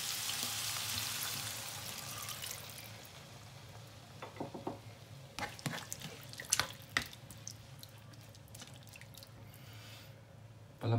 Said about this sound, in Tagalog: At maglagay tayo ng tubig.